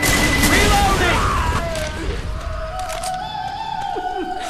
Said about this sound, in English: Throwing a pipe bomb!